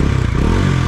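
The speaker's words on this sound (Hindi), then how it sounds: "देखो एक बार मैं थ्रोटल देता हूँ आपको" A 2023 Bajaj Dominar 400 motorcycle, BS7 model, is given a quick blip of throttle nearby, a deep, throbbing single-cylinder engine note that rises briefly in a short burst.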